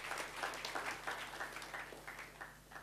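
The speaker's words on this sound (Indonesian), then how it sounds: "Kita beri tepuk tangan bagi Tuhan Yesus" A church congregation claps for Jesus, a dense steady patter of many hands that sounds somewhat distant and muffled, holding at an even level throughout.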